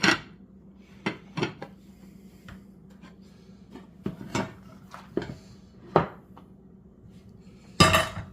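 A cast iron cornbread skillet clanks and knocks against a kitchen surface in a series of separate sharp metallic hits spread over several seconds, loud and close, with quieter clatter between them.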